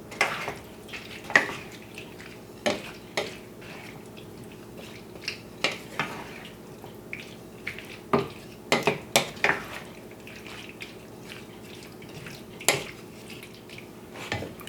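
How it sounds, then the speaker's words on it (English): A spoon stirs thawed cream of mushroom soup in a pot or bowl for a gluten-free green bean casserole, giving scattered clinks and scrapes against the dish at an uneven pace, close and fairly quiet. "And just stir this around till it's all combined."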